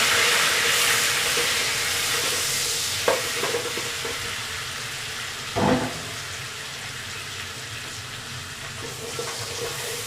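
Garlic and ginger frying with browned onions in about two spoonfuls of oil for beef dal gosht, giving a steady close sizzle throughout with a couple of brief clatters from stirring.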